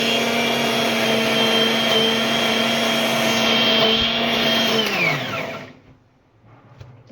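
An electric mixer grinder blends coriander-leaf chutney with a loud, steady motor whine, then the motor is switched off and winds down to near silence with a few faint clicks.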